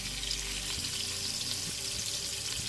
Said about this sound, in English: We'll pull those out and brown the other ones.